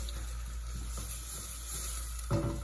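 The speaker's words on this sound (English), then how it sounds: "I'm going to add to this my chopped onion and 2 teaspoons of garlic. And I'm just going to saute this." Chopped onion and garlic sautéing in olive oil over reduced heat make a soft, steady sizzle with faint stirring taps and one louder clunk near the end.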